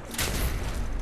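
A single booming gunshot in Fallout 4, one loud close blast with a short rumbling tail.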